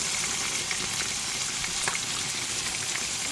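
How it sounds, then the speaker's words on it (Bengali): Chicken pieces frying lightly in a pan give a steady, dense sizzle with a fine crackle throughout, close and continuous. "এই দিক দিয়ে আমি মুরগার মাংসগুলো একদম একটু ভেজে নিতেছি হালকা করে"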